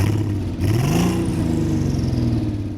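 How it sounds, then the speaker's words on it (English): A Volkswagen Golf GTI W12-650 with a twelve-cylinder engine revs. One smooth, loud rise in pitch dips, then swells again and holds a steady, deep, close drone. "you just heard the first soundbite from the 12-cylinder engine"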